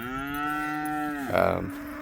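Mashona cross calves during fence line weaning let out a single loud, drawn-out moo up close, and its pitch rises and strains near the end.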